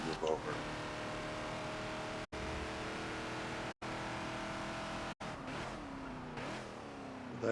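A Ford Falcon XB racing at Indy GP in Forza, its engine roaring continuously among a pack of race cars, with brief cuts in the sound and someone talking over the racing noise.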